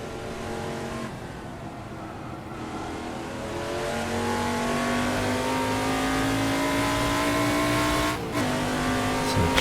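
A Formula 5000 race car in Assetto Corsa howls at full throttle, engine pitch climbing through long gears with a brief upshift dip near the end, loud and continuous without speech.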